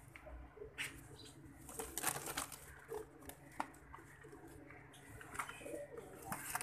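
Soft, low pigeon coos repeat at intervals, close but quiet, with occasional rustling and faint flapping in the background.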